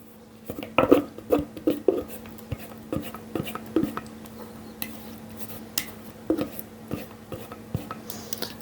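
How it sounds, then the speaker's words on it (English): Wet and dry banana muffin mix being folded together with a spatula in a bowl, soft squishing strokes and irregular scrapes and taps against the bowl, close and fairly quiet. "so I'm going to do it with this spatula. I'm going to mix it in"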